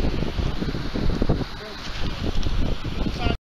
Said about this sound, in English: It's very windy, sorry about that.